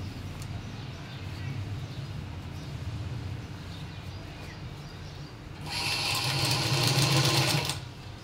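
A sewing machine stitches a cotton gown in a short, loud, fast whirring run near the end, after a stretch of quieter background with a voice talking.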